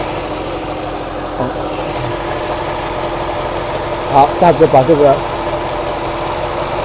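A 1979 Mercedes-Benz 350SLC engine with freshly rebuilt fuel distributor idles steadily and smoothly throughout, a constant close hum, while someone speaks briefly near the end.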